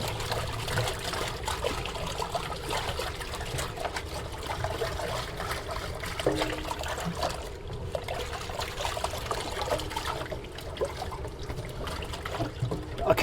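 Silicone baking mats, dirty on both sides, are soaked and washed in water, giving a steady, low sloshing and trickling with no voices.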